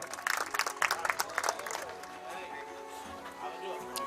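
A crowd at a Swaminarayan religious visit in Ningala claps to welcome an arriving guest: a brisk burst of clapping in the first second and a half, fading into a softer murmur with voices talking underneath.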